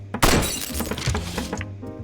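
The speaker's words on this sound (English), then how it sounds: "Break the glass." Glass shatters loudly in the video game Good Job!, a sharp crash followed by tinkling debris that fades over about two seconds, with no talking.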